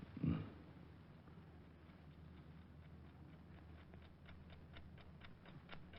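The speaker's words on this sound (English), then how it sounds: "That clock is going to drive me crazy." A wall clock ticks in a quiet room in an old radio detective drama, the steady, faint, evenly spaced ticks growing clearer through the second half after a brief low thump near the start, with no talking.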